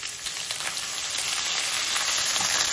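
Chopped onion, ginger and garlic fry in hot oil with a steady, close crackling sizzle that holds even throughout, with no voices.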